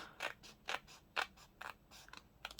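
Scissors snip through paper envelopes in a papercraft layering project, a series of sharp, crisp cuts spaced about half a second apart, quiet and close with no talk.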